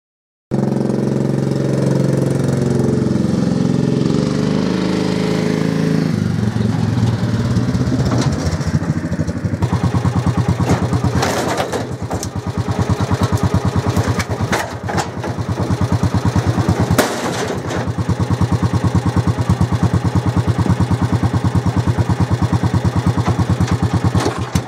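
1988 John Deere AMT 626 utility vehicle engine running close and loud throughout, a low rumbling idle with shifting revs and occasional clunks.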